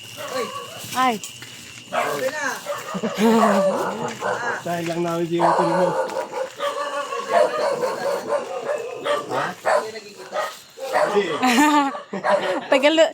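A small dog yips and barks repeatedly nearby while people talk over it, the barks mixing with the voices throughout.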